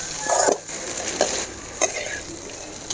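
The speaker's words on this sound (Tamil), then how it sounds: "நல்லா கலந்து விட்டு அது எண்ணெயில் நல்லா வதக்கணும்" Okra is stirred and sautéed in hot oil, with a steady sizzle and several clinks and scrapes of a spoon against the pan.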